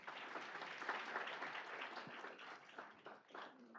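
Audience applause at a new student orientation session, a steady wash of many hands clapping at moderate distance that carries on for several seconds, faint voices mixed in beneath it.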